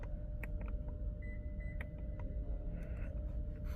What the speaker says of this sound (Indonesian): Ada answer back buzzer volume.